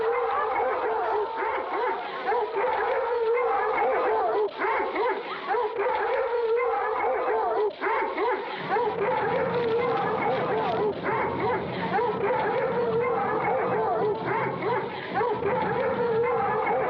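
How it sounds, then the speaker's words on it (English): A pack of hounds bays, barks and howls in a dense, continuous chorus at steady loudness, with voices talking throughout. "Set the hounds on her. But you can't do it. Hounds! Let loose the pack!"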